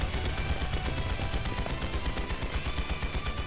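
Rapid gunfire in the Trails into Reverie game during an ambush: a dense, loud stream of automatic shots in a fast, even rhythm that continues without a break and with no voices.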